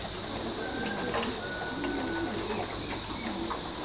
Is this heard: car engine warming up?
no